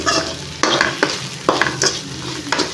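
Ivy gourd frying in a pan as coriander powder and a pinch of garam masala are stirred in: a steady close sizzle broken by repeated scraping strokes of the spoon, with no talk.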